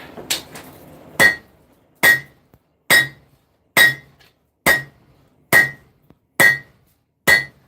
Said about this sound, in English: Sword's almost hot, and then it's on to forging.